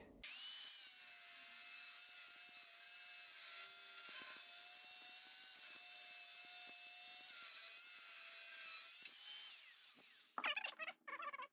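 A Makita M9510B angle grinder cuts through a 5 mm flat iron bar, giving a loud, sustained high-pitched whine and grinding screech that holds steady for about ten seconds before the tool winds down with a few rattling clatters.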